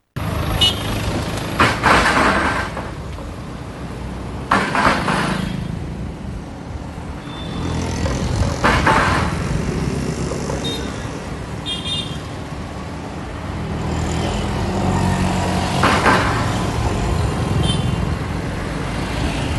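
Vehicles pass one after another over a damaged water-chamber cover on a road, each swelling loudly then fading, with a low rumble of traffic in between.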